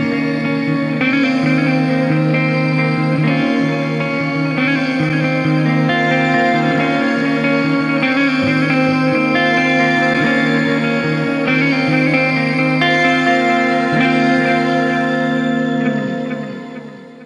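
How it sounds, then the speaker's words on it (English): A guitar played through a Hotone Ampero One with a reverb effect: strummed chords ring out in a steady rhythm, each one washing into a long, shimmering tail, with no talking. "I really like this reverb a lot."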